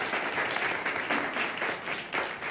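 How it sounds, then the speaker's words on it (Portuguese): Studio audience applauds actor Antônio Abujamra on a Brazilian television program, a steady wash of clapping held for a few seconds at moderate distance. "Palmas para ele,"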